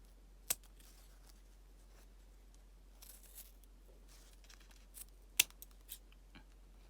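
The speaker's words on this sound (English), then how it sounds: "I need to find some sharper scissors" A few sharp, isolated snips of scissors cutting through ribbon, spaced irregularly against a quiet background, with faint handling rustles between them.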